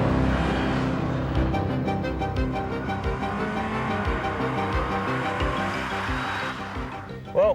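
A Honda with an automatic transmission accelerates hard from standstill to 100 km/h, its engine roaring with a loud rising tone and gear changes, under a rushing wash of wind and road noise.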